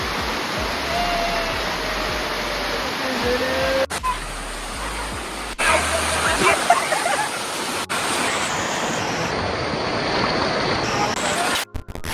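A waterfall visited on a family outing roars as a dense, continuous rush of falling water, loud and close, with brief shifts in level and a few voices mixed in.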